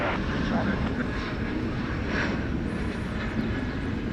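A Boeing 757 jet at DFW airport produces a steady, loud broadband engine roar that holds constant throughout, with no talk over it.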